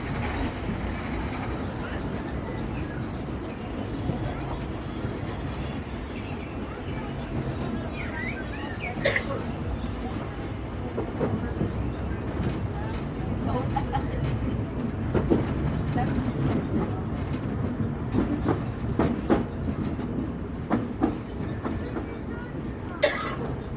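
Big Thunder Mountain mine train ride at Disneyland: a steady rumble of the rolling coaster with rattling clatter and occasional sharp knocks, recorded from aboard. Riders' voices and a cough come through the noise.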